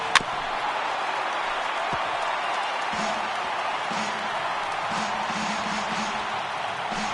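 Crowd of over 39,000 at a Major League Baseball game between Milwaukee and Los Angeles in the MLB The Show 18 video game, a steady roar of cheering spectators throughout with brief bursts of whoops, carrying on evenly beneath the game audio.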